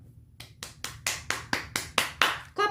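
Hands clap in a slow, steady rhythm, about nine sharp claps spaced evenly and close by, growing a little louder as they go, with no talking.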